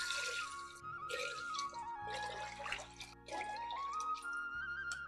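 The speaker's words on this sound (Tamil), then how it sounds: "4 கப்பு தண்ணி சேர்த்துக்கிறேங்க." Water poured into a pressure cooker holding washed rice, lentils and lima beans, with a soft close trickle and splash and light drips over a faint steady background tone.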